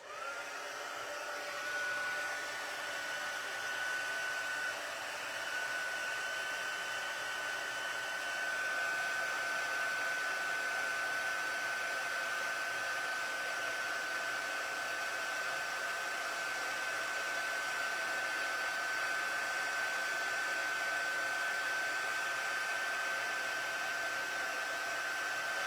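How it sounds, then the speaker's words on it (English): A heat gun blows steadily for heat embossing a stamped card, a continuous airy whoosh with a faint high whine, holding even and unbroken for the whole stretch without any voices. "And now I can heat emboss."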